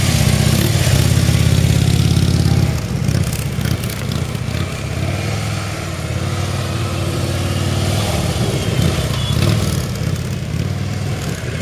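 A motorcycle riding tight switchback turns through a course of cones at about 20–25 mph, its mid-pitched engine droning steadily and rising and falling with throttle changes, close and loud throughout.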